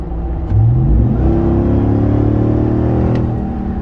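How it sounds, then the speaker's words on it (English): A Ram TRX pickup truck engine with an AWE aftermarket exhaust revs up sharply to full throttle, roaring loudly and holding the high rumble for a few seconds before easing slightly. "let me do a quick full throttle stab for you"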